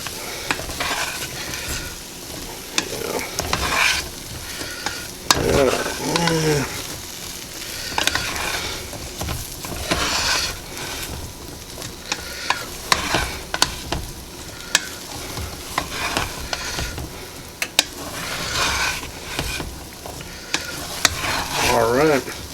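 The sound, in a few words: stirring peas and onions in a pan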